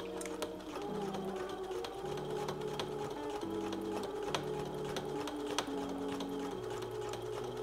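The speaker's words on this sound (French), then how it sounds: "je passe directement à la machine en faisant" A sewing machine runs a simple straight seam along a shortened skirt hem, its steady mechanical whir and rapid needle clatter continuing alone in several short bursts at slightly shifting speeds.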